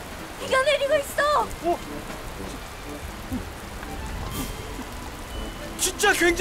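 Steady rain pours throughout a children's drama scene, a continuous hiss in the background while voices call out excitedly at the start and the end.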